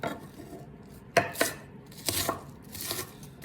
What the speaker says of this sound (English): Okay, I'm going to dice the rest of this.